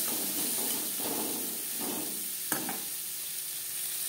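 Bottle gourd leaf stalks stir-frying with salt and turmeric over medium flame, a soft steady sizzle with brief bursts of hissing and one sharp utensil knock midway, no voices.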